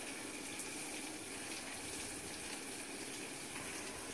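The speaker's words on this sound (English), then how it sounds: "Just taking the hose and rinsing everything off." A garden hose runs steadily, rinsing things off in a continuous, even rush of water with no pauses or voices.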